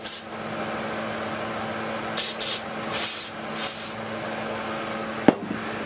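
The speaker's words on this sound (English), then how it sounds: "we're just gonna spray out." Several short bursts of aerosol cleaner spray hiss through the main jet of a Howard Price Maverick 620 mower's carburetor against a steady low hum, followed by a sharp clunk near the end.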